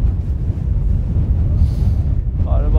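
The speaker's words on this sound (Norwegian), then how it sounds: "Det blir fryktelig mye vind her nå," Strong wind gusting at an outdoor campsite in Norway, a low, continuous roaring buffet on the microphone, with a brief voice near the end.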